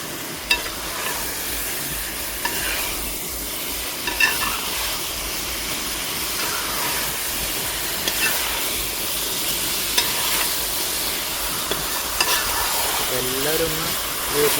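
Quail pieces for a spicy roast fry in a pan with a steady sizzling hiss, while a spoon scrapes and stirs at intervals. A voice speaks faintly over the cooking.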